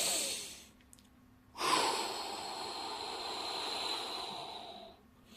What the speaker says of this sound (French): Prenez une respiration profonde.